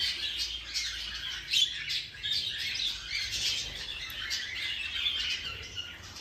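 Pet birds, including a yellow-face bird, in flight cages give a busy chorus of shrill chirps and squawks, steady and fairly close, with no talking.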